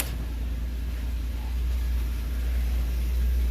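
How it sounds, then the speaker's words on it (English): An old Nash car engine idling roughly after a fuel-system O-ring repair, a steady low rumble close by, with no voices. "Ooh, fired up good. You can tell it's a little rough, but it's running. See if it'll idle."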